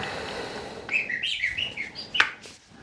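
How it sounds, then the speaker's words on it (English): A bird chirps nearby in a quick run of bright, sharp tweets and trills, fairly faint over a soft background hiss in a workshop setting. "Crazy bird."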